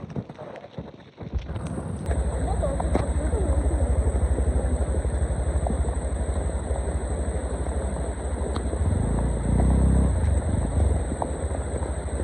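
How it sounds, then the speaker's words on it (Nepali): A motorcycle runs on a road on a trip from Kakani to Lauke waterfall in Nepal, its engine a loud, steady, close roar that holds for about ten seconds and swells near the end. "बाइक जान्छ"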